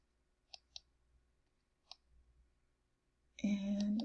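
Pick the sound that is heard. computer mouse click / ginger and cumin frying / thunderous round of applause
computer mouse click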